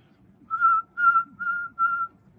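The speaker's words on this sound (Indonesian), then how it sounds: "Siul yang bunyi bukan yang tidak bunyi ya." A person whistles four clear, steady notes of about equal length, evenly spaced, close and distinct against a quiet background.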